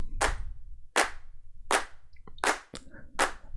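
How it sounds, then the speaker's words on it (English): Clap loop from a sample library, used for country-style drum production: five sharp, evenly spaced hand claps about three quarters of a second apart, dry and close, with a few faint clicks between them. "And then also another clap loop."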